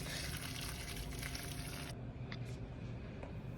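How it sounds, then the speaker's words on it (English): Boiled water pours steadily over chopped cabbage for about two seconds, a close gushing splash that then stops, leaving a quiet room with a few faint drips and clinks. "pour the boiled water over the cabbage"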